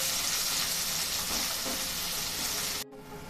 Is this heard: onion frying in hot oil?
yes